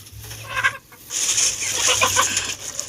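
Rhode Island Red and Chinese Silkie chickens cluck in a farm pen, several close bird calls in short bursts over a low hum.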